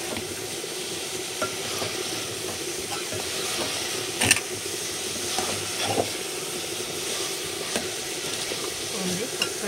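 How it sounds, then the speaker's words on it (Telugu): Country chicken (nattu kodi) gravy curry gets stirred in a pan, a soft continuous sizzle broken by scraping spoon strokes and a sharp clink on the pan. "ఇలా బాగా కలుపుకోవాలి మనము"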